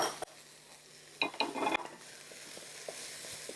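Chopped chilies stirred in a sizzling pan, a soft continuous fry broken by a short burst of utensil scraping and clinks against the pan, close and alone.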